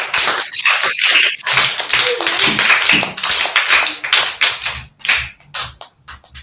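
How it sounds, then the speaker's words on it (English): A group of people claps loudly and close by for a girl during a solar eclipse lesson, a dense clatter of hands that breaks into scattered, uneven claps toward the end. "Everybody should clap for her."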